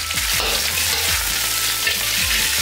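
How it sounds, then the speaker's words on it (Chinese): Hairtail fish with garlic, ginger slices and shallots stir-fry in hot oil in a wok, a continuous loud sizzle broken by rhythmic scraping and tossing strokes close by. "下蒜头、姜片，炒香后下葱头，炒出香味下带鱼"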